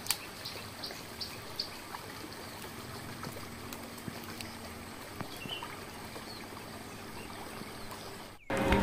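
Clear river water flows through a forest village ringed by mountains near Bojonegoro, a faint, steady rushing hiss that runs evenly throughout, with a few small clicks near the end.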